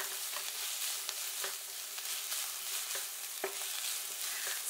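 Green bell pepper being stir-fried for gochu japchae: a continuous soft sizzle with regular light clinks and scrapes of a utensil tossing the pieces, moderately quiet and close, with no talking.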